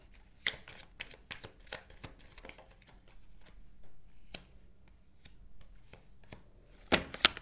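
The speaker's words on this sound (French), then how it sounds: "J'ai retourné une carte sans faire exprès, donc du coup, je vais la retourner" A playing card being turned over and handled on a table, with soft scattered flicks, taps and rustles, quiet and close, and a sharper double snap of card handling at the end.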